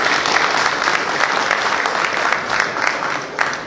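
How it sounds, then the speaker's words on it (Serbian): Dense, steady applause from an audience at the 10th mushroom exhibition in Belgrade, loud and close, sustained without a break for a few seconds. "Molim vas jedan značajan aplauz za ovo što vam radite."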